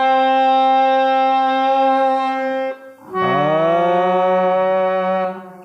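Harmonium played with sustained reed chords: a steady, buzzy held tone for nearly three seconds, a brief dip, then a second louder chord that swells in and holds before easing off.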